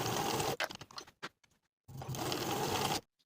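Sewing machine stitching a short-edge seam on a knit jacket collar, two fast whirring runs with brief stop-and-start bursts between, close and clear with no voice.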